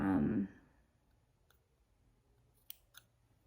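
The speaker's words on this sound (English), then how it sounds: "you just want to trim off this excess" Scissors snip off an excess thread tail at a sewn seam, two small crisp clicks near the end, faint and close, following a brief voice at the start.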